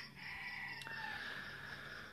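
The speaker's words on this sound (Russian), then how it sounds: "Петухи опять начали орать." Roosters crow somewhere off in the distance, a faint drawn-out call over steady background noise, with a brief click partway through.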